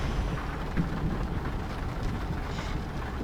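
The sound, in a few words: rain at night in Bus Simulator Indonesia video game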